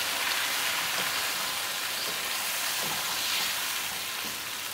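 Blended tomato paste with cumin sizzles and crackles in a pan while cooking aloo ki bhujiya, a steady bright frying hiss with occasional soft stirring clunks, no voices.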